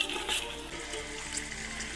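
Carrots and beans fry in oil with cinnamon, cloves and bay leaf for homemade pulao, a soft steady sizzle with faint scraping as they are stirred, close and without talk.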